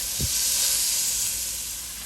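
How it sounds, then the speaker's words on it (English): Ground beef browns in a pan for a quick chili, giving a steady close hiss of sizzling fat that holds for the whole stretch, with a soft low knock near the start. "So I'm going to start cooking this beef down."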